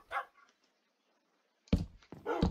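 Minecraft dogs give a few sharp, close barks: one at the start, then a pair near the end separated by a quiet gap.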